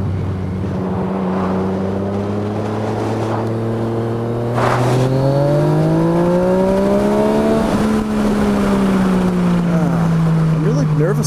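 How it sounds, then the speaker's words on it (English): A motorcycle engine hums loudly and steadily, then revs up through a climbing pitch and drops back on a downshift with a slight sputter, close and continuous under wind noise. "I love hearing that downshift, and it's got a little bit of that sputter"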